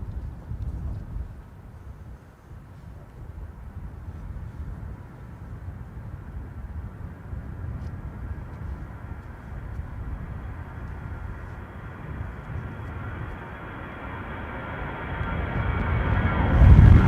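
An EasyJet Airbus A320 airliner takes off at London Gatwick during a storm, a low, rumbling jet roar heard at a distance through wind noise, slowly building and swelling loudest at the end.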